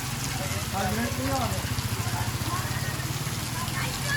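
Steady heavy rain hisses down without a break over a village, a low droning hum running beneath it and faint voices now and then.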